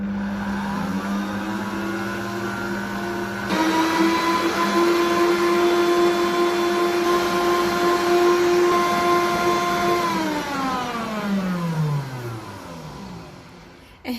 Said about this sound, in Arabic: راح نخلي البيض يتخفق مليح مليح مع السكر حتى يبيض ويضاعف